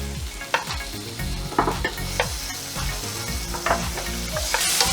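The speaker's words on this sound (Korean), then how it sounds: "마늘을 넣고 튀기고 볶아줬답니다." Garlic fries and stir-fries in hot oil, a close, steady sizzle broken by repeated scraping strokes of a spatula against the pan every second or so, with no voices.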